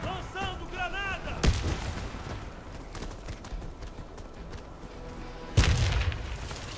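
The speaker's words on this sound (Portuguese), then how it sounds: "Lançando granada. Lançando granada." Grenade explosions and gunfire in the Warface video game: two heavy, sharp blasts, one early and one late, over a steady background of distant shooting and battle noise.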